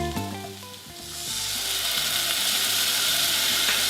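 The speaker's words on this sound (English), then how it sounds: "Now we're adding our white wine." White wine poured onto softened, translucent onions and garlic with bay leaves in a hot pan for seafood stew, erupting into a loud, steady sizzle that builds after a second and hisses continuously to the end, alone without talk.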